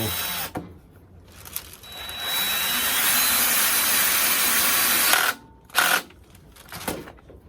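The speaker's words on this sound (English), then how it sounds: "Let's lock her in there real good with these pocket screws" A power drill drives pocket screws into wood: a burst of whirring starts, then a long, steady high-pitched whine runs for several seconds, followed by a few short, sharp bursts close by.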